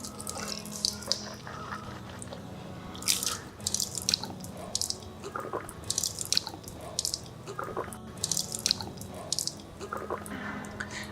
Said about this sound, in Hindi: बाद 3 मरतबा कुल्ली करना है